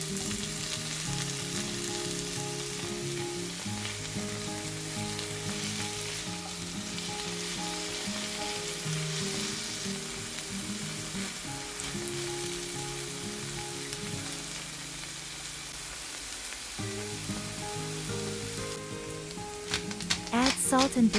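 Tomato and other vegetables fry in a pan with a steady, close sizzle that runs under background music and changes briefly near the end as they are stirred.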